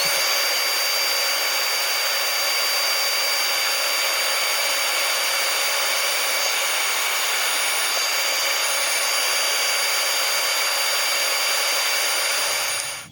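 A wooden bowl with a resin inlay is sanded as it spins on a lathe, giving a loud, steady high whine and rushing hiss that holds unbroken for about twelve seconds, then cuts off.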